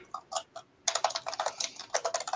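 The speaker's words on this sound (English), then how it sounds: "someone is typing in the background who's got their mic on" Someone types on a computer keyboard near an open microphone, a few scattered clicks followed by a rapid, continuous run of crisp keystrokes, fairly faint and alone.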